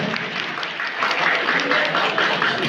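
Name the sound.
loud audience applause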